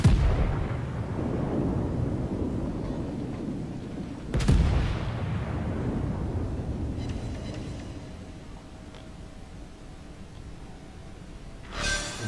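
Heavy naval gunfire from French battleships in World of Warships, with a loud rumbling salvo opening, a sharp blast near the middle and another short burst at the end over a steady low battle roar.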